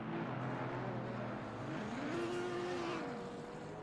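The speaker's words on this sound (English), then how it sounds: "it sounded like someone spun there" In Assetto Corsa Competizione, a GT4 race car spins off at the Zolder circuit: a droning engine note dips, then rises and holds under a wash of other engines and a faint tire-scrub hiss, fairly distant.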